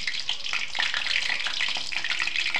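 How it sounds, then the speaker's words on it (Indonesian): Meat-filled wontons deep frying in preheated hot oil over medium-high heat, a dense, steady crackling sizzle with bubbling pops running continuously at close range, with no voices. "Kita goreng ke minyak yang sudah dipanaskan sebelumnya."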